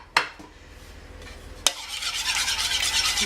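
Thick buckwheat galette batter with an egg is stirred in a bowl, opening with two sharp knocks against the rim, then a steady wet, rasping whisking that grows louder and more rhythmic.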